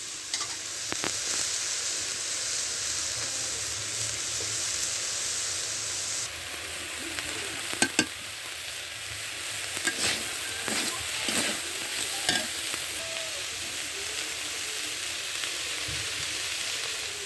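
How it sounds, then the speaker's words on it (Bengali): Titul fish pieces fry in a wok with a loud, steady hiss of hot oil, broken by a few scrapes and clicks of a spatula, with no one speaking. "এই জন্য এই মাছটা একটু শক্ত শক্ত ভেজে নিতে হয়"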